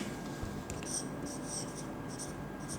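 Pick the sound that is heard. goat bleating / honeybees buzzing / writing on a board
writing on a board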